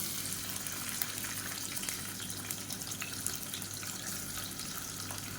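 Sliced onion frying in hot ghee and oil in a pot for biryani, a steady close sizzle and crackle with scattered pops that holds even throughout, with no talk.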